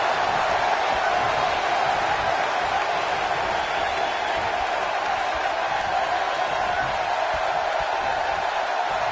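Roar of a stadium crowd of over 77,000 in the wrestling video game WWE 2K19, a steady loud wash of cheering that holds evenly throughout with no breaks.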